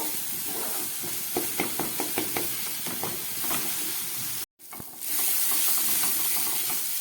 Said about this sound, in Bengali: এখন একটু ভালো করে ভেজে নেব